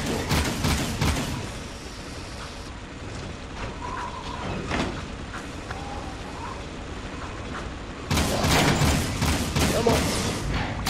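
Bursts of gunfire from the video game Jak 2 rattle continuously amid mechanical clanking and game noise, dense and loud at the start, easing in the middle, then surging again near the end.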